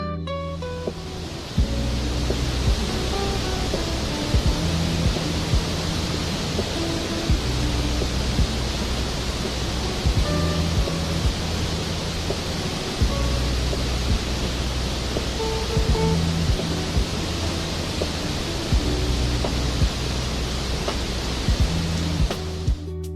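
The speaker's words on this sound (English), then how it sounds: "The powerful flow of water cascading down the cliffs creates an incredible sight." A waterfall at Sandiaoling, Taiwan, pours down the cliffs in a constant, even roar of rushing water, with soft music playing faintly underneath throughout.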